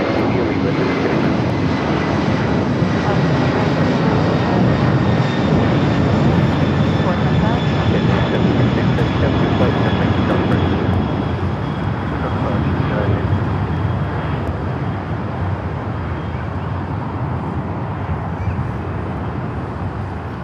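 A jet airliner taxis at Los Angeles LAX airport, a steady loud engine roar with a faint whine that holds for the whole stretch, slowly easing in intensity, with speech faintly beneath.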